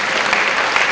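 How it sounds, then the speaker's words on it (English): Brief burst of dense applause from an audience at a spiritual discourse on the Srimad Bhagavatam, a continuous wash of many hands clapping at once, loud and sustained without pause. "Clap for him."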